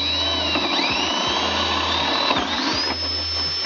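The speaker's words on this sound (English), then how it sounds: "Now I am going to drill the center." A power drill whirs steadily at close range, its pitch dipping and rising as it bites into the material.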